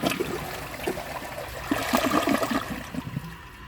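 AquaSource one-piece toilet flushing a washcloth: a close rush of draining water with gurgles and splashes that swells in the middle, then thins to a trickle as the bowl refills, with no talking.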